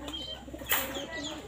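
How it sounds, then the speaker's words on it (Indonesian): Racing pigeons coo softly in a loft, rolling throaty calls repeating at close range, with a brief burst of rustling or wing movement partway through. "Kemarin saya dari rumahnya Mas Hendrik bawa 5 ekor merpati, teman-teman"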